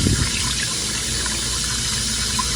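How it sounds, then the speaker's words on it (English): Tap water runs steadily over a tomato being washed in a kitchen, a constant close gushing splash with no talk. "you wash your tomato, because that's what I'm doing first"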